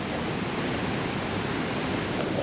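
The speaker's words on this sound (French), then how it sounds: "au pied des cascades." Waterfall cascades in a park in Laos, a constant hissing roar of falling water, even and moderately loud, with no talking.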